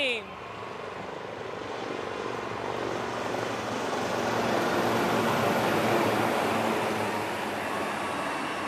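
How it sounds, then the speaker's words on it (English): Indian Air Force Sarang display team helicopters fly over an air show in formation, a broad rotor and engine roar that swells slowly and holds steady at a moderate distance. "please welcome the brand ambassadors of the Indian Air Force, the Sarang Helicopter Display Team"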